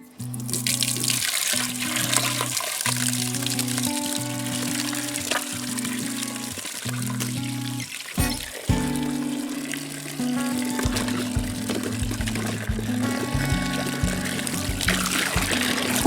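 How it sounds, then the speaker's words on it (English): Quince fruit washed under a running tap, with a steady, fairly loud stream of water splashing into a sink for a long stretch and brief interruptions as the fruit is moved under the flow, close by. "So the next step is washing our fruit."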